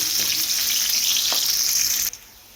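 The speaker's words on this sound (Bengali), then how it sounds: "একটু ভাজা ভাজা করে নেব।" Onion, garlic cloves, a little ginger and three green chillies fry in a pan. A loud, steady sizzling hiss cuts off abruptly near the end.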